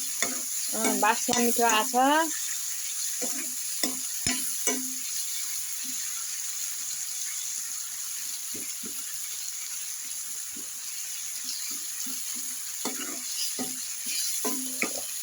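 Garlic-ginger paste frying in oil, sizzling steadily while it is stirred with scattered scrapes, close up, with brief speech over it near the start.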